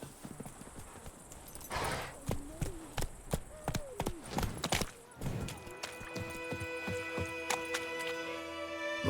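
Hooves of Roach, a horse in The Witcher 3, clip-clopping at a gallop, followed by a whinny and sharp impacts, then a steadier ringing in-game ambience; game effects heard close and moderately loud.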